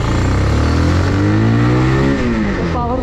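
A Bajaj Pulsar 220 motorcycle engine pulls steadily while being ridden, its loud, close exhaust note rising in pitch as it accelerates through about three seconds with no talk.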